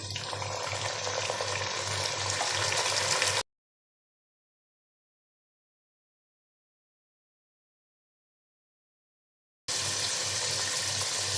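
Drumsticks fry in a pan for sambar with a steady, faint sizzle that is broken by a long stretch of silence midway before the sizzling resumes.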